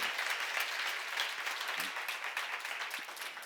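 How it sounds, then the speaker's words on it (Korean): A congregation at a church seminar breaks into continuous applause, a broad, even patter of many hands filling the room from start to finish. "박수."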